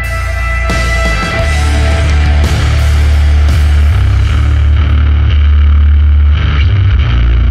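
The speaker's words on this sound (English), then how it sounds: "We don't always hear much distortion on the bass, but this is not just a little." Heavily distorted bass guitar through a Hotcakes overdrive pedal, thick fuzzy sustained notes with a loud, dense low end that plays continuously and alone.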